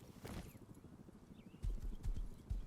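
Horse hooves in Rust clop faintly at first under a quiet ambient background with a brief whinny-like sound, then a few heavier, closer hoof thuds land unevenly toward the end.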